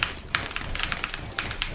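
Keys clack on a computer keyboard during a solo build session in Fortnite, a quick irregular run of close, crisp taps and clicks with no talking.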